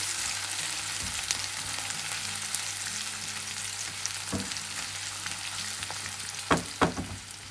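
Onion and garlic frying in a pan for veg chow mein, a quiet continuous sizzle broken by a few sharp scraping knocks of stirring toward the end.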